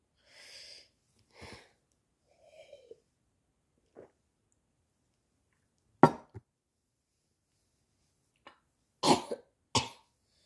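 Several separate coughs and throat-clearing sounds, close and fairly loud, spaced out with quiet pauses between them.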